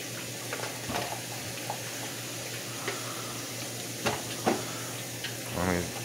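Chicken and shrimp fajitas sizzle steadily in a hot pan, with occasional soft clinks and scrapes as they are stirred around, the frying hiss staying constant throughout.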